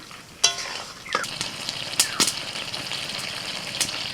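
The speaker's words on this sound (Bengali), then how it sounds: "এখন দিয়ে দিচ্ছি আমি আলু আলু দিয়ে আরও মিনিট দিয়ে কষিয়ে নিচ্ছি" Chicken and potatoes sauteing in a pan, a continuous close sizzle broken by sharp clinks and scrapes of a utensil stirring against the metal.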